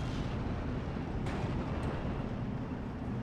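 A battle in Steel Division 2 rumbles on with a constant low roar of artillery and distant explosions, one sharper blast cracking through, no voices heard.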